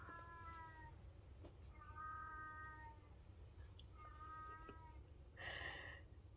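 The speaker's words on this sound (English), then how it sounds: "can you hear my cat?" An elderly ex-farm domestic cat meows three times in drawn-out, evenly spaced calls, fairly faint in a quiet room, followed by a brief louder rustle.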